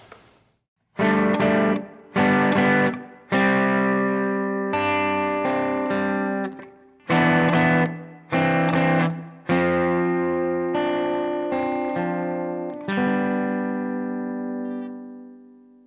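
Guitar chord progression in which each chord holds a constant top note of D, the chords struck one at a time and left to ring, heard alone through an effects unit with a touch of distortion and chorus.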